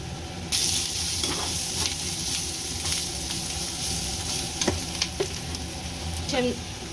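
Onions and fish eggs fry in a pan with ginger-garlic paste, turmeric and coriander powder, giving a steady loud sizzle with occasional scraping stirs of a spoon against the pan.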